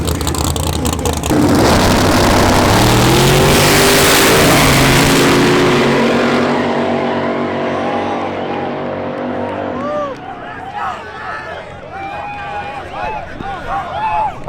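Cars roar and accelerate hard at a legal street race, the engine noise loud and rising before fading as they pull away, mixed with crowd shouting and excited voices.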